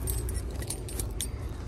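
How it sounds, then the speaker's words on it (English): Car keys jangling near a 1982 Jeep Cherokee Laredo truck, a steady metallic rattle of the key ring, close and fairly quiet, with no talk. "Keys, that might help."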